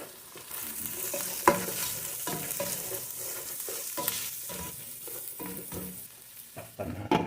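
Red onion fries in a pan for a milkfish and chorizo dish, giving a steady close sizzle with scraping stir strokes and a few sharp clacks throughout, with no talking.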